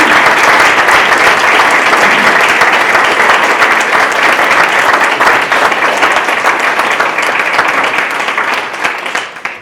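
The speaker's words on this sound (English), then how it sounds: "A round of applause, please, for all of you coming in." Loud, sustained applause from a large crowd at a graduation ceremony, dense clapping that holds steady before thinning slightly at the end.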